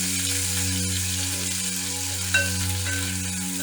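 Onion fries in a pan for red lentil amti, a steady close sizzle with one brief stirring scrape partway through.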